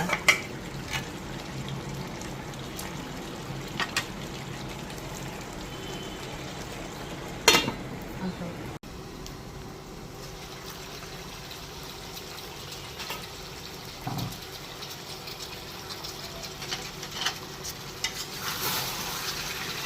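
Beef and potatoes stir-fried in a pot for a Khulna-style chui jhal beef curry, with steady scraping and stirring over a low sizzle, a sharp clatter near the middle, and no talking.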